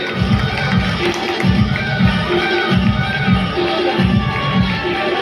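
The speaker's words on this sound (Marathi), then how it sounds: "टाळ्या वाजवा" Loud, steady applause from an audience at a community get-together award ceremony, with rhythmic clapping bursts and crowd noise filling the hall throughout.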